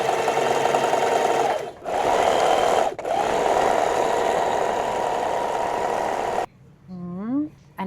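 A sewing machine stitches fabric in steady, loud runs broken by two brief pauses, then stops near the end as a voice speaks over the quiet.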